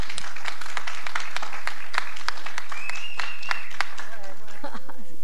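Dense audience applause in a hall, many hands clapping steadily at close range, with a few voices and brief whistle-like tones cutting through near the end.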